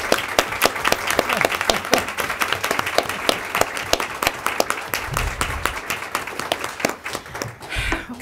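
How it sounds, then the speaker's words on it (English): Audience applause for three teachers at a women's commission bookmark competition event, steady dense clapping filling the room throughout, fairly loud and continuous with no talk over it. "we'll give them a nice round of applause"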